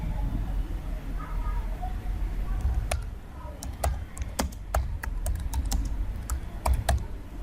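Name typed on a computer keyboard in MS Word: a run of crisp, close key clicks, sparse at first then quicker and more regular, over a low background rumble, with no talking.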